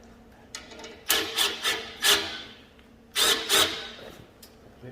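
Tightening a nut onto a bolt on a custom motorcycle fender strut, a series of close ratcheting, rasping bursts in two short groups, with no voices.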